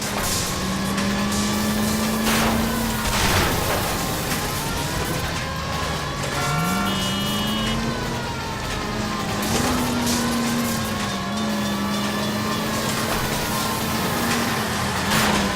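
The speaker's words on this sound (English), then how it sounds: "Suspect is in control of the streetcar and driving dangerously." A streetcar careens through the streets in the video game L.A. Noire, a steady loud rumbling engine drone with shifting pitch and rattles running throughout.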